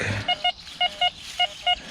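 An XP Deus 2 metal detector in a forest gives six short, sharp electronic beeps in evenly spaced pairs, clear and close against a quiet background with no talk.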